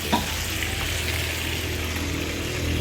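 Sardines sautéing in a pan with tomato and chayote, a close, continuous sizzle and crackle with light stirring and a soft clink near the start.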